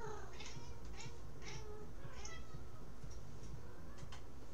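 Cats meow repeatedly, several short mewing calls spread across a steady background hum in a home kitchen, moderately faint and fairly near.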